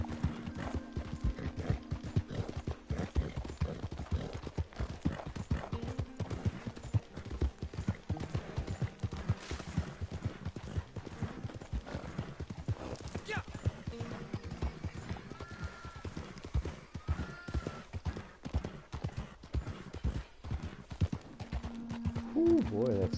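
A horse gallops in Red Dead Redemption II Online, fast rhythmic hoofbeats steady and close throughout, with an occasional whinny and a voice talking faintly underneath.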